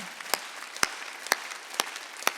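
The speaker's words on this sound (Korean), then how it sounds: "박수 치려고 세게." A church congregation at a Wednesday service claps in sparse, loud unison beats about every half second, five sharp claps over a faint background hiss.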